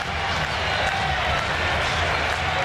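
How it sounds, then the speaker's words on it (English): Baseball fans at Camden Yards in Baltimore clap during an Orioles–Royals game on 1998 opening day, a steady, dense wash of distant stadium applause and crowd murmur that continues evenly throughout. "they're up and clapping a little bit"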